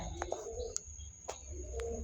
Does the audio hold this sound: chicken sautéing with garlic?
no